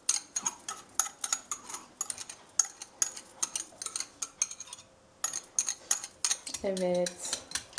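A utensil stirs milk and cream together in a pot, sounding as rapid, close clinks and scrapes against the metal, with a short pause midway and a brief voice near the end.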